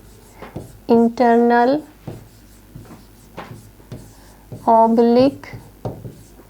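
Marker or chalk scratching on a classroom board during a Hindi anatomy lesson, short dry strokes repeating through the clip while a teacher speaks over them.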